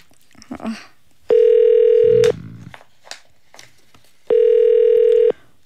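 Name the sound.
telephone dialing and ringing for a radio call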